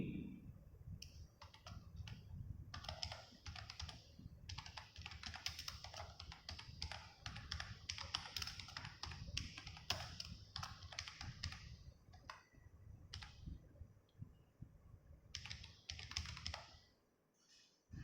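Someone types steadily on a computer keyboard, a long run of quick, irregular key clicks with short pauses between bursts, faint and close, with no talking.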